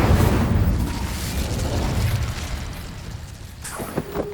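The Incendio fire spell in Hogwarts Legacy bursts with a loud rumbling whoosh that fades over a few seconds, followed by a few faint clicks near the end.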